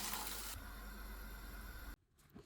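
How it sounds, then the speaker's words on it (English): Water poured into a pot of cooking masoor dal with spices, a steady close pour lasting under two seconds that stops abruptly, followed by faint quiet handling. "Add some water."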